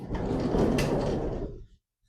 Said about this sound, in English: I've got the side door open.